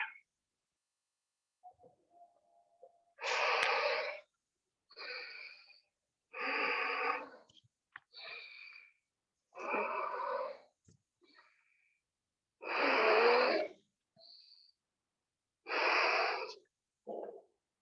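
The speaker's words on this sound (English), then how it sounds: "Create a full breathing sound also when you are performing." Forceful yogic breaths during a breathing exercise, loud and close: around eight strong, rushing inhalations and exhalations in a steady rhythm with short pauses between, with a few softer breaths among them and no talking.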